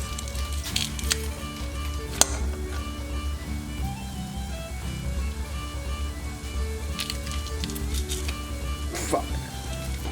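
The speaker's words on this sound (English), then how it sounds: "We just want to sweat the garlic and onions for just a few minutes." Crushed garlic and onions sweat in a pan with a soft, steady sizzle close by, under a low hum and a few sharp clicks, before brown sugar goes in for Texas-style short ribs.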